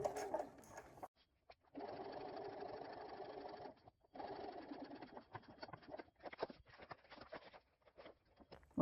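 Sewing machine running steady top-stitching bursts along a fabric dopp kit seam, a continuous whirring hum broken by brief stops and restarts, close and moderately quiet with no speech.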